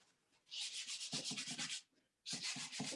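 Pastel rubbed across paper with a soft cloth rag during portrait work, a close, dry, brushing swish in two long bursts of rapid back-and-forth strokes separated by a short pause.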